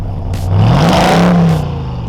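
A 2022 RAM 1500 TRX pickup's engine fires up and revs in one loud, close surge that rises, holds and settles back to a deep idle, with no talking.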